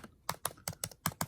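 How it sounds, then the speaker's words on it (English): Fingers type on a MacBook Retina butterfly keyboard, about eight crisp, punchy clicks in quick, uneven succession, close and fairly quiet. "sort of clickiness and punchiness of the Retina here."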